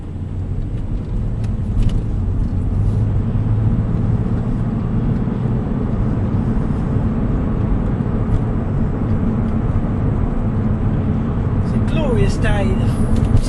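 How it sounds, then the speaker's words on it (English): A Porsche 911 996.2 Tiptronic with a Dansk exhaust and sunroof drones from inside the cabin, a steady, loud low engine and road rumble that stays constant throughout. "we're in a Porsche 911 with a sunroof and Tiptronic"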